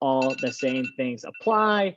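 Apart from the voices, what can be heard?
phone timer alarm ringing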